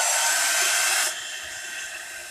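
A heat dryer blows steadily across curtains coated with craft paste, a loud broadband whoosh for about a second that then drops to a quieter, steady hiss.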